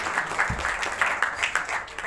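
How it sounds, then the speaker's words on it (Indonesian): A small group applauds a speaker named Rizky, brisk, fairly close clapping with individual claps clearly separable throughout the short burst. "tepuk tangan buat Rizky"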